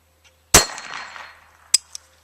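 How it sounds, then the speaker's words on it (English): A single sharp shot from a Ruger SR22 .22 pistol outdoors, followed by a short ringing decay and then a fainter metallic clack. "So we're having a blast out here shooting our 22."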